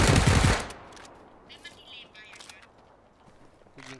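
Gunfire in the video game PUBG, a loud close burst of rapid automatic shots at the start that quickly cuts off, followed by quieter game sounds and faint clicks.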